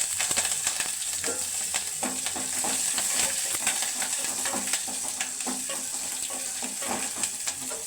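Garlic and green chili frying in hot oil with mustard seeds and cumin, a continuous close sizzle with crackles and the scrape of stirring across the pan.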